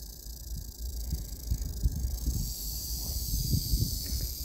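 A big diamondback rattlesnake on brown sand gives a continuous buzzing rattle that runs steadily throughout, with faint rustling and outdoor noise underneath.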